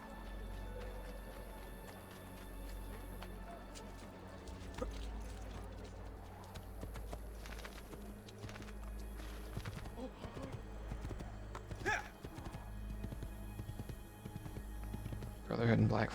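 Horse hooves clip-clopping in Assassin's Creed 2, a steady trotting patter under game music and someone talking over it.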